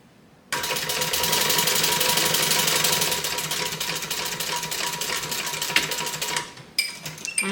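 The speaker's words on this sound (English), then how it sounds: "I'm going to come back over these same stitches and backstitch" A sewing machine starts abruptly and runs a fast, steady whirring rattle of stitches while backstitching a bag. Near the end it slows and stops, leaving a few clicks and handling noises.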